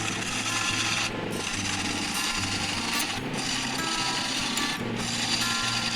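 Wood lathe turning a coolabah burl bowl, a continuous close rasping scrape of the tool on chippy burl with a low steady hum and brief dips in between.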